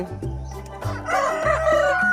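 Chickens on a small poultry farm, a flock of about thirty hens, cluck and a rooster crows loudly and close by, the crow rising and holding across most of the moment with no talk.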